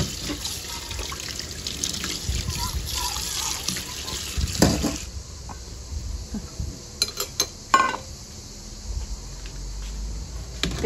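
Tap water runs into a kitchen sink during washing-up, a loud steady gush for about five seconds before it stops, followed by scattered clinks and knocks of dishes.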